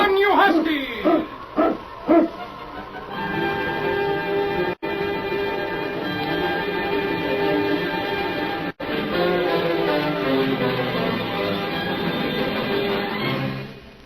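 A husky sled-dog team barks in a few sharp, loud bursts, then gives way to a swelling orchestral score in a radio adventure set on the Yukon trail.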